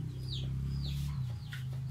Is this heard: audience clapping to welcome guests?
no